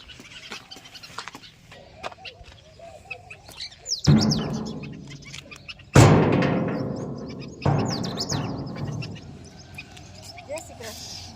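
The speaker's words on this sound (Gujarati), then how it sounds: "ઓલા બે પક્ષીઓ મસ્ત બોલે છે." Two birds chirp and call in a village garden planted with sugarcane, aloe vera and neem on a foggy morning, with thin, intermittent tweets heard faintly beneath steady nearby talking.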